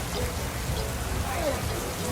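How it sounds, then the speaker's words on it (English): Heavy tropical rain pours steadily on Roatan, a dense, continuous wash of close drops drumming on surfaces with no break, loud and even throughout. "It's raining right now."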